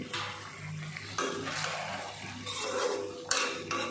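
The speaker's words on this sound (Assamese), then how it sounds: "মই মাংসখিনি এতিয়া ভাজি আছোঁ" Pieces of local chicken fry in a pan, with a steady sizzle under repeated scraping and stirring of a utensil against the metal. A few sharper clinks of the ladle stand out near the end.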